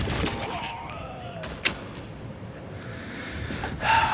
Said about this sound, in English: he found my grenade